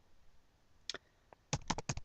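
Keyboard keys tapped while entering values into a spreadsheet, a few isolated clicks followed by a quicker burst of keystrokes, faint and close with no talking.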